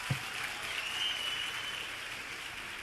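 An audience at a youth week launch event applauds, a soft, distant patter of clapping that stays faint and steady.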